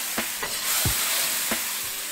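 Aromatics and sauce stir-frying in hot oil over medium heat for fried rice, a dense close sizzle with several sharp spatula clacks against the pan.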